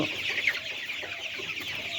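A flock of layer chickens on a poultry farm clucks and chatters continuously close by, a busy overlapping murmur with no pauses.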